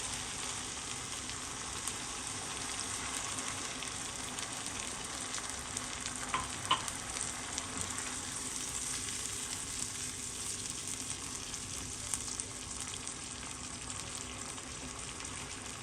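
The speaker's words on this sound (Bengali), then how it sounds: "মশলাগুলো সুন্দর কষানো হবে।" Spices and milk cooking in a pan for a whole quail roast, a steady, even sizzle and bubbling simmer throughout, close and continuous with a brief stir in the middle.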